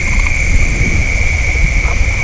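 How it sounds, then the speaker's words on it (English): Dense chorus of many frogs calling together at dusk in a tropical Sulawesi forest by a river, a loud continuous trilling drone with steady high-pitched bands and low rumbling croaks underneath, no voices. "I can hear a lot of frogs calling."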